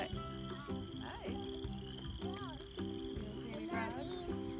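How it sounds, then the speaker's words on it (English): Frogs in a zoo swamp croak loudly and continuously, a dense chorus of rhythmic pulsing calls with a steady high trill, while people talk faintly in the background. "Those frogs are so loud,"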